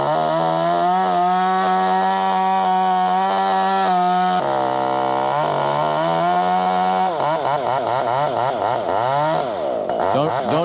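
A chainsaw cuts a limb from a giant tree, loud and close throughout, its steady whine dipping and bending in pitch as the bar bites into the wood.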